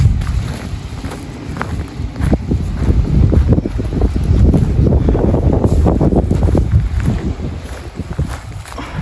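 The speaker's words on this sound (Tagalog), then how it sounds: "napakahangin siya" Strong wind blows across an open seashore near Hanko in Finland, loud gusty roaring and microphone buffeting that rises and falls throughout, with faint surf beneath.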